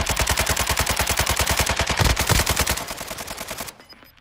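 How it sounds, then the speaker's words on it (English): Assault rifles firing in a first-person shooter game: rapid, evenly spaced full-auto bursts, loud and close, with several guns overlapping, trailing off over the last half-second. "I can hear three ARs overlaying shots"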